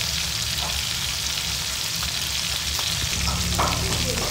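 Parrotfish marinated with lemongrass and chili frying in a pan, a dense steady sizzle of hot oil with faint crackles and pops, close and continuous, no voices.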